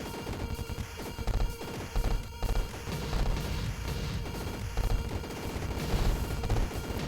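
An enemy turret fires in a metroidvania prototype game, giving rapid, repeated shot bursts over dense game effects and music throughout.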